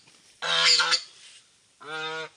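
A goose gives two loud, nasal honks close by, the first longer and the second shorter after a brief pause.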